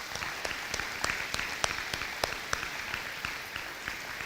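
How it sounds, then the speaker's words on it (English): A faint round of applause for teachers at an elementary school dedication and ribbon cutting, a crowd clapping steadily at a distance with no talk over it. "Let's give them a round of applause."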